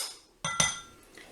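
A spatula knocks and scrapes against a tray while clearing out a raw mint chocolate mixture, giving two quick close clinks followed by a faint scrape.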